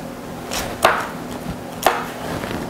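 A knife cuts an onion in half on a cutting board, giving two crisp, close chops about a second apart over quiet room tone.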